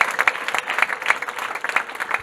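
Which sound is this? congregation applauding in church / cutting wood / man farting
congregation applauding in church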